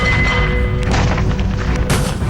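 A bomb blast in a residential village in Birbhum, West Bengal, lands as a loud, close boom and rumble with crackling debris, continuing heavily throughout with no voices.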